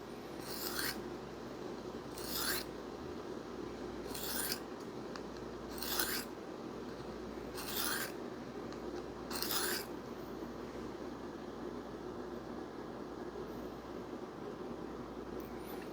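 A blade is drawn across a Work Sharp folding field sharpener in six evenly spaced rasping strokes about every one and a half seconds, close but fairly quiet over low room hum.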